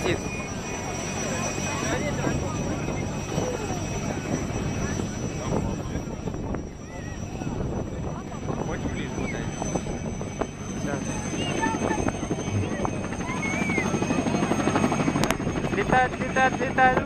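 A Robinson helicopter flies at a village air show, its rotor and engine a steady moderate hum carried over the open field. Crowd noise and people talking continue throughout.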